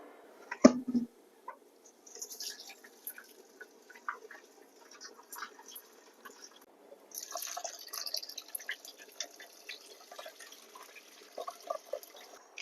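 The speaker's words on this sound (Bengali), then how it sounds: "এখন আমি ওইটা ঠান্ডা পানি দিয়ে ধুবো" Boiled food is rinsed with cold water, giving soft, irregular drips, splashes and trickles close by, quiet and intermittent with no talking.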